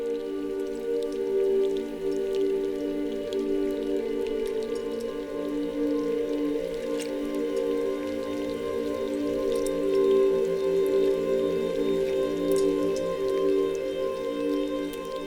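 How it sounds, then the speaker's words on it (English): Meltwater rivers rush along the sides of a retreating glacier, a steady broad watery roar with faint splashes and drips throughout. "usually makes these rushing rivers along the sides of the glaciers"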